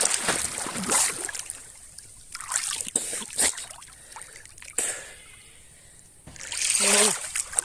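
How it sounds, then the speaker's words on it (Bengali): Water splashes and sloshes in irregular bursts as someone bathes in a village pond, with quieter lapping between the surges and occasional voices nearby. "অনেকদিন পর পুকুরে গোসল করা"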